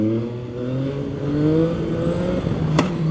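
A CFMOTO 675NK motorcycle engine revs while riding, with a steady rising engine tone and harmonics climbing and easing, close and loud with wind noise.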